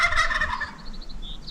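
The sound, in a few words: wild turkey gobbling in the Oregon forest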